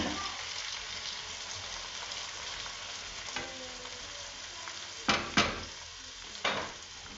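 Octopus frying with softened onions in a pan, a steady sizzle underneath a few sharp clatters of a utensil stirring and scraping near the end, close and continuous.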